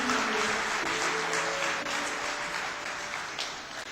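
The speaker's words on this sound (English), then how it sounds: "very big round of applause" A conference audience in Lahore applauds a panel, a dense, steady wash of clapping that fades slightly toward the end, with faint tonal sound underneath.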